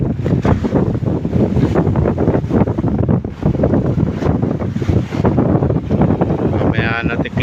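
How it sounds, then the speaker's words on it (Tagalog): Strong wind buffets the microphone beside a boat at the shore of a Philippine beach, with big waves and surf roaring continuously and loudly throughout, steady and unbroken. "Balagbag sa hangin ng bangka."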